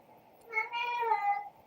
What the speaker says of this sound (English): My cat had something to say about that.